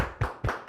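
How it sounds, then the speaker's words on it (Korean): Three distinct bursts of congregational clapping in a church, each a short sharp volley of many hands separated by brief pauses, fairly close and loud with no talking. "우리 예배를 드리게 해주신 하나님께 박수로 감사하겠습니다"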